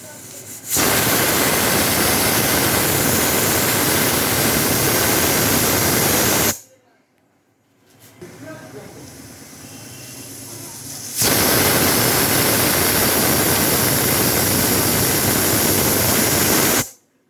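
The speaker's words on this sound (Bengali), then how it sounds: "সো আরও আমি দুটো সিটি কাউন্ট করব, বন্ধ করে দেবো।" A pressure cooker on a gas stove, cooking a Bengali sour dal with green mango, gives two long, loud hissing whistles, each lasting several seconds, with a quieter pause between them.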